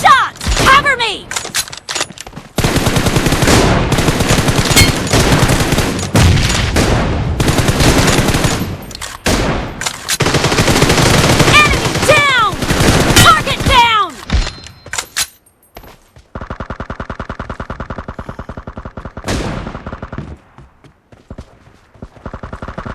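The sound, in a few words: gunfire in Mizo Arena multiplayer video game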